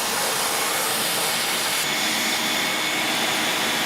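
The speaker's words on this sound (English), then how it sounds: "Let's vacuum the rest of that stuff off there." A shop vacuum roars steadily and loudly, sucking loose sodium silicate sand off a casting mold for aluminum, an unbroken whooshing drone with no pauses.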